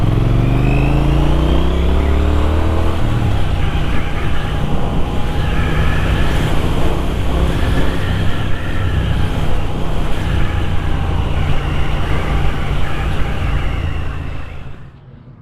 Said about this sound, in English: that's a little quick blast with some hard throttle and there was no clutch slip at all